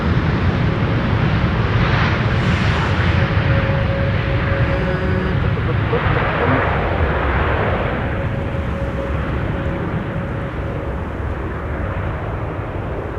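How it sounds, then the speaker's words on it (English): A KLM Boeing 737-800 arriving from Vienna on Schiphol's Buitenveldertbaan runway, a loud broad jet engine roar with a steady whine that swells and then slowly fades as the plane passes, heard outdoors. "KLM 737-800 arriving from Vienna"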